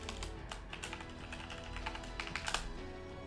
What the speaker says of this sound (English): Oh, I keep typing my password wrong